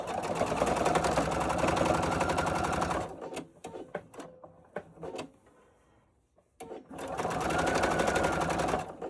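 A sewing machine stitches a hanging towel in two loud, steady runs at the start and end, with a gap of quieter handling clicks and thumps between them.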